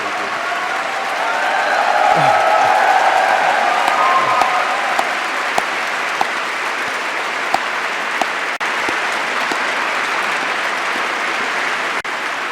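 Sustained applause fills a European Council hall, loud and even with dense clapping, a few sharper individual claps standing out, and a brief murmur of voices early on.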